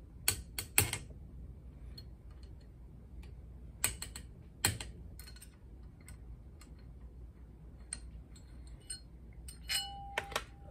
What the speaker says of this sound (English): Now I need to go ahead and remove these two screws.